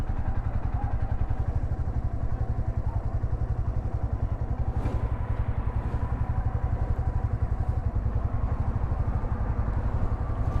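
A motorcycle engine idles steadily on a ride from Delhi toward Lucknow, stopped at a food court near a construction area, with a low, even throb running close and loud throughout.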